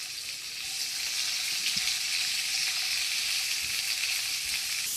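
Chopped onions sizzling in hot oil with cumin seeds for a masala beef keema macaroni, a steady bright crackle throughout with a few faint stirring knocks.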